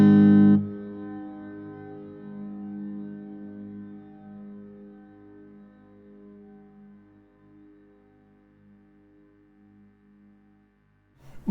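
A loud distorted guitar chord strikes, then rings out through a reverb plugin set to a 6-second decay, a long, slowly fading tail that lingers for about ten seconds before a new note hits.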